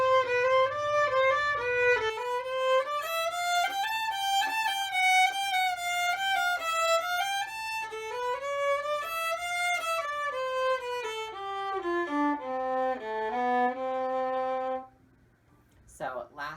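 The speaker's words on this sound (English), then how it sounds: "this is 6 really short, small pieces for violin that have a lot of repeats" A solo violin plays one of Elgar's six easy pieces, a short, smooth melody with repeated figures that rises and falls, ending on lower sustained notes before a brief pause and a soft knock.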